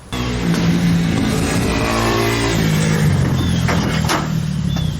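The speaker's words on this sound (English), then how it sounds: "Nice, right down the sidewalk with a dirt bike." Dirt bike engine revving and droning close by as it rides along a sidewalk, a continuous mid-pitched motor roar with a slight rise and fall in throttle.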